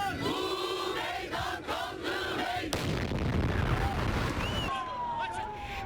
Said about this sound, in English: Here's some video from one of the explosions right as it happened.